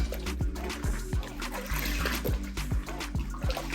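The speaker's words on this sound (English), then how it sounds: "I'm gonna just take my wig and just run water through it." Water pours steadily through a wet blonde #613 bob wig, with a continuous splashing trickle and a few soft rhythmic thumps close by, and no talking.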